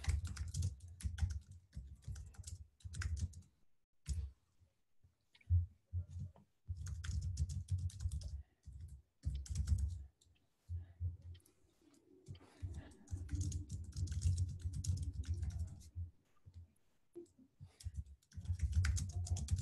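Quiet, close computer keyboard typing in irregular runs of clicks separated by short pauses, continuing for about twenty seconds with no other sounds.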